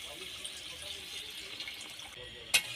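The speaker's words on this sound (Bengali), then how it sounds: "এবার ওর মধ্যে অল্প পরিমাণে জল দিয়ে দেব।" Water poured in a small amount into a pan of spiced potato for egg curry, a soft steady running wash close by, ending with a brief sharp splash.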